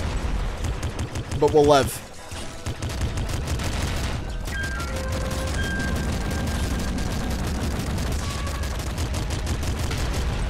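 Heavy machine gun fire in Nuclear Throne sounds as a fast, steady rattle of shots across the whole stretch, joined by a brief burst of other game noise near the start, while someone talks over it.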